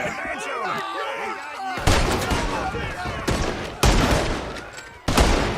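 Red Dead Redemption 2 gunfire rings out as several loud, sharp shots spaced a second or so apart, each leaving a ringing tail, after a stretch of character voices.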